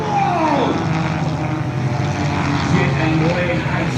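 A propeller aircraft flies at the Shell Harbour NSW Air Show, producing a loud, continuous engine drone that shifts in pitch as it passes overhead, with commentary heard over it.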